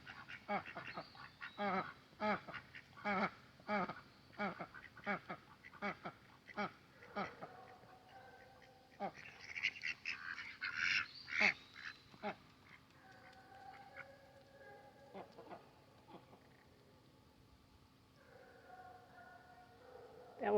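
Ducks quack on a small farm in the woods, a run of loud, repeated quacks close by in an uneven rhythm, thinning into quieter, scattered calls later on.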